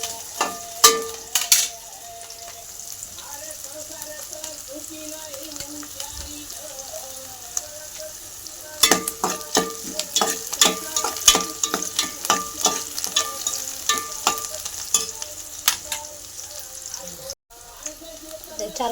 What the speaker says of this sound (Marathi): कांदा टाकून घे. कांदा चांगला लाल होतो परतून घ्यायचा.